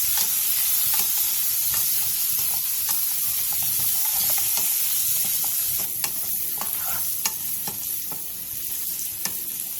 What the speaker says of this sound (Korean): 팬에 기름을 두른 뒤 마늘과 알감자를 넣고 마늘이 노릇해질 때까지 센